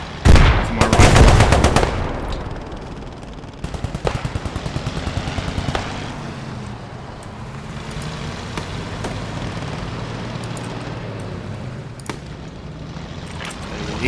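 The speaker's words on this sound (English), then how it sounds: "Yeah, a machine gunner, yeah." Automatic machine gun fire in the military shooter game Squad, a loud close burst at the start followed by scattered bursts and distant shots over rumbling background noise.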